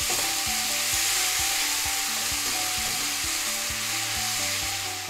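Taro sizzles in a pan as soy sauce, sugar and pepper are stirred through it, a steady close frying hiss with repeated soft scraping strokes of a spatula, no voices.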